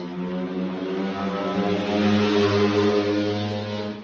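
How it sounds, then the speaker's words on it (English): A very loud passing vehicle outside produces a droning, tonal engine rumble that swells slightly toward the middle and fades, heard steadily for several seconds with no voices. "that's a very loud car"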